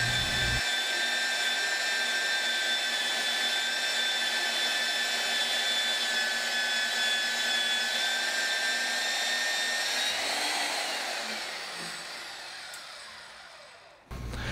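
Hougen HMD115 magnetic drill press boring a hole in metal, a loud steady motor whine with a high tonal hum that holds for about ten seconds, then winds down and fades as the cut ends.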